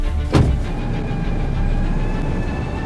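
A ranger vehicle pulls away after a tyre change in the outback, its engine a steady close rumble that follows a brief clunk near the start.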